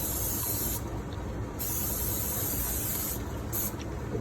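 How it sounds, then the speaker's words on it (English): Cooking oil sprayed from a can onto floured chicken pieces before air frying: two longer hissing bursts and a short final squirt, close by, with quiet gaps between and no talking. "just spray it."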